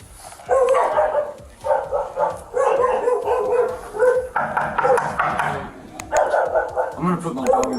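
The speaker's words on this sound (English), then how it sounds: "I'm gonna put my dog in the bathroom" A house dog barks in repeated bursts indoors, loud and close, with agitated voices talking over and between the barks.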